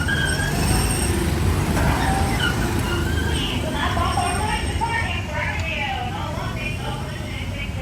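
The Disneyland monorail hums and rumbles steadily as it runs above the park rides, with the rolling train noise continuous throughout and a voice talking over it.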